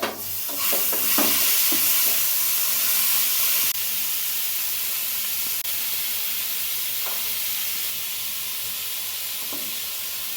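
Chicken tikka skewers sizzling in butter on a hot tawa, a steady close frying hiss with a few soft clatters as pieces are set down, fading slightly in intensity after the first few seconds.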